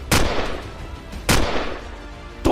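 Three sharp, loud gunfire blasts ring out in a dramatized audio comic, spaced about a second apart, each a sudden crack followed by a short rumbling decay.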